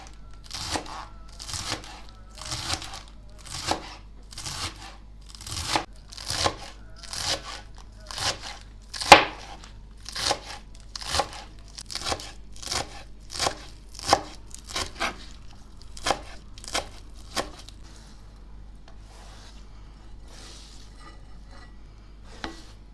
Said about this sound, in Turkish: Marolun şöyle içinin en taze yerinden kısırın içerisine doğrayacağım.